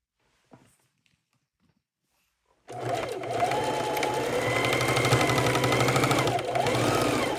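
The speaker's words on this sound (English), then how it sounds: "take your sewing machine and take your pants and give them a quick little fix" A sewing machine stitching jeans starts up after near silence and runs steadily, a fast even mechanical whir with rhythmic clatter, close and fairly loud.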